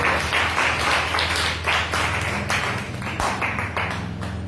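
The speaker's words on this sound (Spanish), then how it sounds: "denle un fuerte aplauso a nuestro Señor" Applause from a church congregation during a Spanish-language sermon, a steady wash of clapping over a low rumble of music or organ drone that continues throughout.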